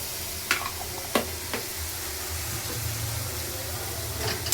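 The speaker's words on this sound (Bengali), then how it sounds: "আবার এটা একটু নেড়ে নিই" Chilli, garlic and ginger paste fry in a hot pan. A steady sizzle runs throughout, broken by a few sharp scraping knocks as the paste is stirred, and no one speaks.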